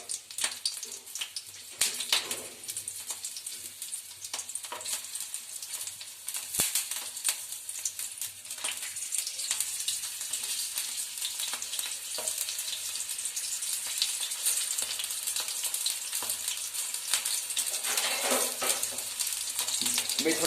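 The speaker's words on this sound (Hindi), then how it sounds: "थोड़ा बीच बीच में थोड़ा फ्राई करते रहेंगे।" Peeled green chillies fry in hot oil with a steady, bright sizzle and crackle, punctuated by occasional stirring clatter, close and continuous.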